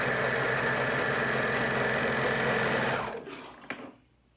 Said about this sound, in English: serge all the way across the bottom with my center seams being even